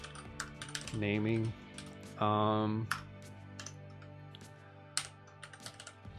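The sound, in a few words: typing on a computer keyboard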